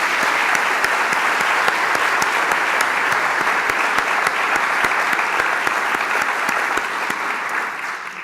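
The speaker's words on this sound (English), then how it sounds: "So please welcome all of our cabinet with your applause." Sustained audience applause at a university president's fall welcome address as the cabinet is introduced, a loud, dense, continuous clatter of many hands lasting several seconds before fading slightly at the close.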